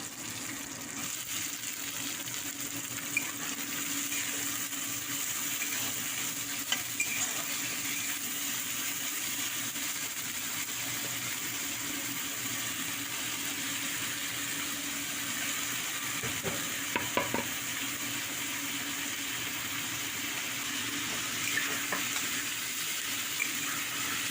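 Potatoes and onions fry in a pan at home, giving a steady, even sizzle that runs throughout, with a few faint clicks from stirring.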